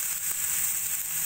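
Boiled banana stem goes into a pan of curry with rice that has been fried down well, and a steady, bright hiss of sizzling oil fills the whole moment up close.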